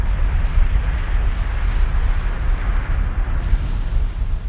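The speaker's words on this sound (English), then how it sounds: "Uh-oh, the missile gets up and..." A missile launch and blast from a Thor missile console: a sustained, loud, roaring rumble with dense booming low end that persists steadily for several seconds without pause.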